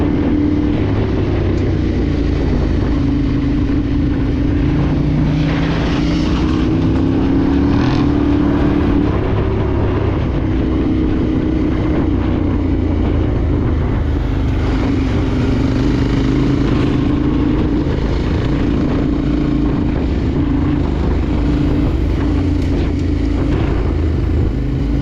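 Yamaha Tenere 700 rally motorcycle ridden in the Dakar 2024, its engine droning loud and steady with shifting pitch and rough wind and terrain noise throughout, no voices.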